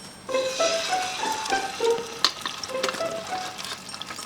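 Fish frying in a pan over a charcoal fire outdoors, a loud close sizzle with scraping stirs, under scattered tonal chirps and clinks.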